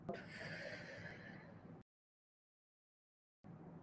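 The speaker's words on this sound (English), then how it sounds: "breathing in" A long, close, steady inhale through the nose during a slow, mindful neck-turning exercise, lasting almost two seconds before dropping to silence, then resuming briefly.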